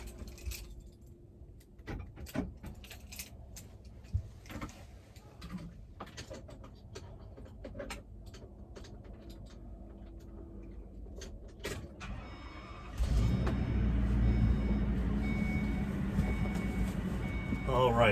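A Ford E450 Forest River Sunseeker Class C RV engine cranks and starts after about thirteen seconds of quiet keys and small clatter, settling into a loud, steady low idle.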